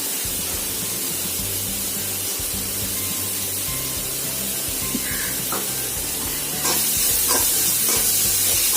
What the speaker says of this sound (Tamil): இதை வந்து ஒரு 1 மினிட் நல்லா இப்படி ஃப்ரை பண்ணிட்டே இருக்கேன்.